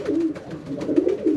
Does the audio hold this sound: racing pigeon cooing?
yes